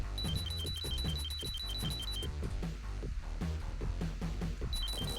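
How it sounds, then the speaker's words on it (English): Batman's weapon in a cheap shovelware video game gives off repeated high, chime-like beeping tones in quick bursts, layered over busy game music and thumping effects. "Batman has a weapon that sounds like this"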